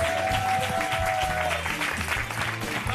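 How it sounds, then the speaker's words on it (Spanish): A theatre audience breaks into loud, sustained applause for a magician's act on a televised talent show, the dense clapping carried over a low musical backing. "Albert Llorenç, fuerte aplauso para él."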